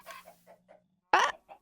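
Chickens in the Minecraft video game, giving a handful of short, close clucks followed by one louder, sharper squawk and a final soft cluck.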